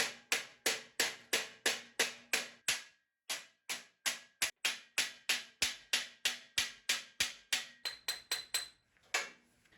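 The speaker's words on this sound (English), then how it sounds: "The top edge also needs hammering." A hammer strikes the bent top edge of a sheet metal drawer in a workshop, sharp metallic blows in an even steady rhythm, about two per second, each ringing briefly, with a short pause partway through and no talk.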